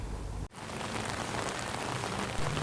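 Steady, dense rain pours over the city of Semarang in the late afternoon, a continuous broadband hiss of drops on surfaces with a brief dip near the start, no voices present.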